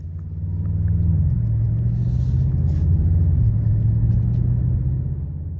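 A 2024 Mercedes-AMG GLE63 S driving in Sport Plus with exhaust valves open, a deep steady engine rumble that swells in and holds before easing slightly.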